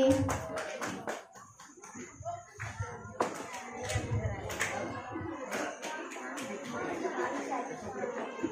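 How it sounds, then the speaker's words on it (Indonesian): Audience clapping at a children's Quran school event (TPA) in Bulungan, scattered rather than thunderous, mixed with crowd shuffling and chatter in a busy room. "Beri tepuk tangan yang meriah untuk adik kita, Adik Siti Sofiani."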